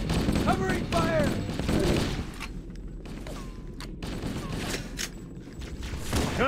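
Rapid automatic gunfire in a Halo: Combat Evolved battle, steady bursts of shots and mechanical clatter with shouted voices over the firing at the start.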